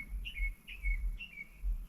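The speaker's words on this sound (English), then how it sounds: "you hear the birds" Birds chirp and tweet in a backyard, short bright calls repeating about every half second, fairly close, over a low rumbling background with no talk.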